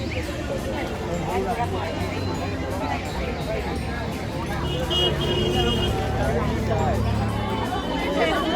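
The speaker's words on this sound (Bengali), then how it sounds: "প্রচন্ড ভিড়। খোলা শুরু হচ্ছে, এখনই ধাক্কা মুক্কি চালু।" Dense crowd outside the Jagannath temple: a steady murmur of many voices mixed with nearby vehicle noise and occasional horns.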